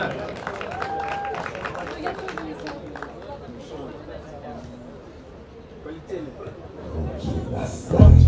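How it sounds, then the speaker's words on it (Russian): A crowd applauds as the cheerleading team Phenomen A walks onto the field at a tournament opening in Yekaterinburg. Clapping and chatter run under an announcer's voice, then a loud burst arrives near the end. "Встречаем на поле аплодисменты."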